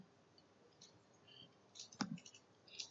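A single crisp computer mouse click sounds close and quiet against near silence while a pie chart is made in Excel, with faint softer taps around it.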